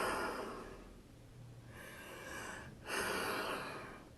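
A man's breath forced out in slow, airy exhalations, imitating the sound of God's name, Yod Hey Vav Hey, in a sermon: one long breath fades, then a stronger rushing exhale follows, close and alone without words.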